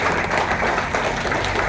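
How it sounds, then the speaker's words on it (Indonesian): Applause for a founding elder at a community gathering: steady, dense clapping from a crowd, fairly close and continuous throughout with no pauses. "tepuk tangan untuk sesepuh pendiri"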